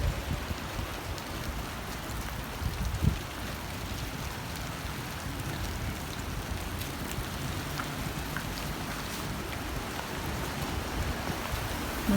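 Light rain driven by strong wind, a steady soft wash of hiss and patter that rises and falls slightly with the gusts, one brief knock early on and no voices.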